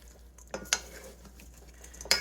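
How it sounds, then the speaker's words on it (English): A spoon scrapes and clinks against a bowl while broccoli, cauliflower, shredded cheddar and sunflower seed kernels are mixed into a salad. A few sharp taps and a soft stirring rustle sound close and quiet. "You want to mix all this together."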